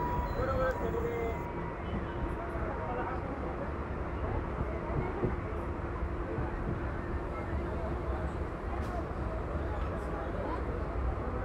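Steady rumble and rattle inside a moving local train on the Katwa line near Bandel and Tribeni, with continuous broadband noise throughout and faint voices in the carriage.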